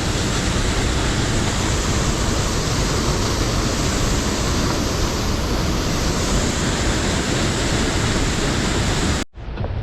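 Loud, unbroken rushing of water from Greer Creek Falls pours continuously for several seconds, a broad hiss and rumble, then cuts off abruptly at the very end.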